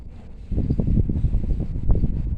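Low, rumbling gusts of strong wind buffet the microphone continuously, rising in strength after the first half second.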